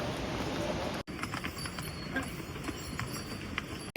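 Hooves clip-clop on a mountain trail on the way to Kedarnath, a horse moving with faint, irregular clopping among outdoor ambience, with a voice briefly audible.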